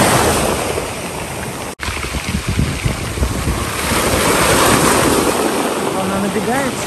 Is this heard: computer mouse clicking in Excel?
no